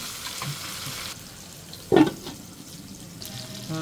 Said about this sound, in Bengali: এখন আমি মাংসটা ভালো করে একটু কষাই নেবো